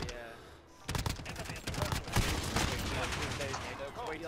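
Shotgun fire in Modern Warfare plays close and loud, a rapid run of blasts and clattering shots from an Overkill class setup, with a voice talking over the gunfire.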